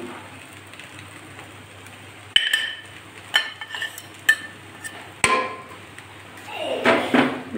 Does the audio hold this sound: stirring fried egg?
yes